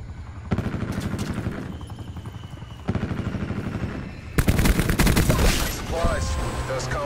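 Gunfire in Call of Duty Black Ops 4: bursts of rapid automatic shots and sharp cracks, dense and loud, with an explosion-like burst later, while players talk excitedly over it.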